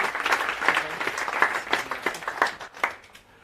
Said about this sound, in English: Give it up for David Turier. Round of applause, Monday morning.